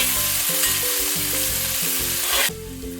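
Mustard seeds and onions frying and stirred in a pan for Kerala-style duck curry: a steady bright sizzle with rhythmic scraping stir strokes, loud and close, the hiss dropping abruptly near the end.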